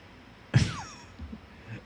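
A cat gives a single short meow at moderate distance, a brief rising-falling cry over quiet room noise, followed by faint soft rustles.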